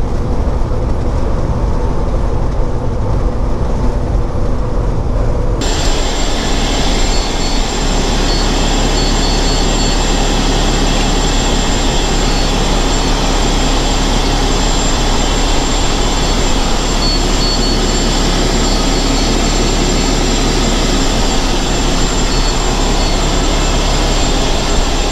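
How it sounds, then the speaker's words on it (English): Strong wind roars steadily around a Kenworth W900 hopper-bottom truck in early winter, a loud continuous broadband rush lasting throughout with no talk. "Wind is ridiculous."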